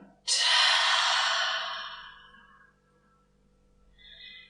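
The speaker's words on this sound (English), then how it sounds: "So let's have a long breath in. And a long breath out." A single long, deep breath drawn in and let out slowly during a gentle yoga session, starting with a strong inhale that fades over about two seconds, followed by a quieter start of the next breath.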